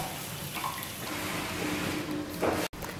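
Feet being dipped in and out of basins of warm and cold water during a Kneipp treatment in Germany, giving continuous close sloshing and splashing with a brief sharp break near the end.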